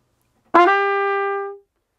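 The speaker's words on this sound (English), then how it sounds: "A grace note is like a little miniature pickup to that A." A single trumpet note starts with a quick grace-note scoop from just below into a held A. The note sustains for about a second and is loud and close.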